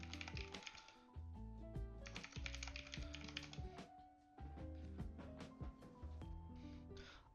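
A password typed on a computer keyboard, a quick near run of key clicks in bursts with short pauses, heard over a soft musical background.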